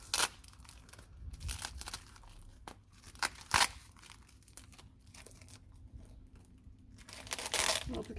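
Tape and packaging crinkle and tear as a plant box is carefully unwrapped up close, sharp crunchy rips between softer rustling, with no talk.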